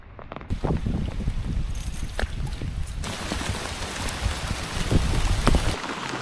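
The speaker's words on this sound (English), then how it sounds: "Now the rain's coming down." Steady rain falls around a kayak during a fishing trip in Middle Tennessee, a dense continuous hiss with scattered drops and thumps on the boat and water, close and even throughout.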